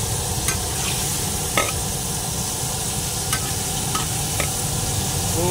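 Battered gourami fish frying in hot oil for a sweet and sour dish, with a dense continuous sizzle and a few sharp spatter crackles, close up, with no talk.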